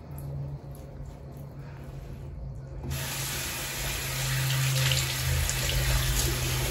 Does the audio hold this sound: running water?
yes